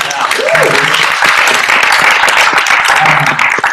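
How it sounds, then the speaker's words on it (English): Applause from a live podcast audience at a fan convention, a dense steady round of clapping filling the room, with some voices and cheers mixed in throughout. "We have round of applause"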